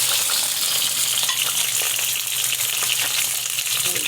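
Onions frying in hot ghee in a pan for highway-style chicken karahi, giving a steady, loud, continuous sizzle with faint stirring scrapes throughout and no talking.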